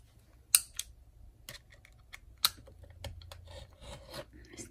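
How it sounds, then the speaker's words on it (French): A box cutter slices through paper in short rasping strokes, with a few sharp clicks and scrapes and quiet pauses between cuts, close and faint. "Je vais le faire droit. Avec le cutter."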